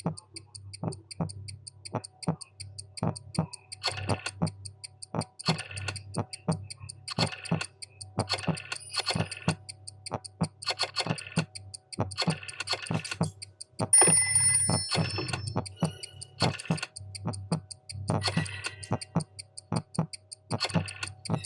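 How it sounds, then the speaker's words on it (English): Rotary phone sounds in a Jackbox Party Pack 6 video game: repeated bursts of mechanical dial clicking and bell-like ringing tones, steady and rhythmic, continuing for about twenty seconds with no talking over them. "Dial one of these numbers on your rotary phone before anyone else, or you die."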